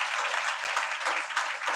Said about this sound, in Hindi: एक बार ताली बजा दो परमेश्वर के लिए